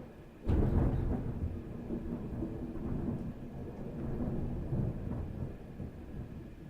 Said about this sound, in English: it's storming really bad here